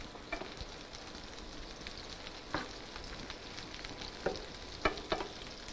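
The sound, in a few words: burgers sautéing and sizzling in a pan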